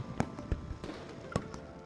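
Fireworks burst in the video game Love & DeepSpace, a few sharp scattered pops and crackles over a soft, steady musical background.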